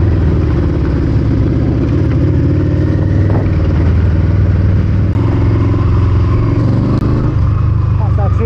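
A Dragster V4 1200 cc motorcycle engine runs loud and close in a steady, throaty drone throughout, with clattering mechanical noise and someone talking over it.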